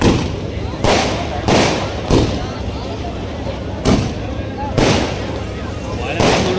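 Firecrackers and fireworks go off at a Ganesha immersion festival in Turuvekere: a loud, close series of sharp bursts about a second apart, with crowd noise between them.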